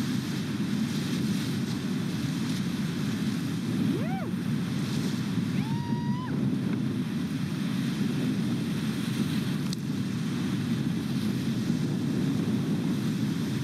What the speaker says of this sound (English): this is going into one of the more moderate rapids